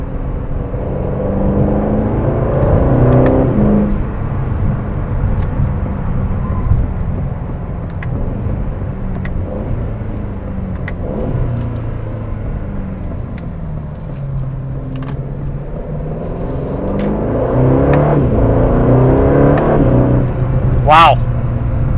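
A 2024 Aston Martin DB12 GT accelerates on the road, its engine droning and swelling through gear changes under steady cabin rumble, with a person talking over much of it.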